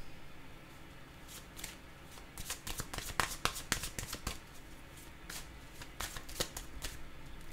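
Playing cards shuffled by hand for a tarot-style reading, a run of crisp riffling bursts with short pauses, close and fairly quiet, with no talk over them.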